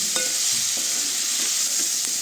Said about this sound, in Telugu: బాగా కలుపుకోవాలండి.